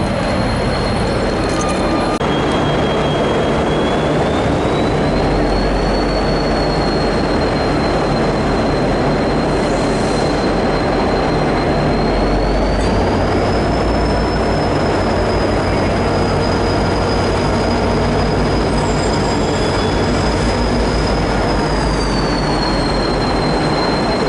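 A Swan Hill N set passenger train moving off, heard from on board: a steady loud rumble of wheels and engine with a high whining tone rising and holding, continuous throughout.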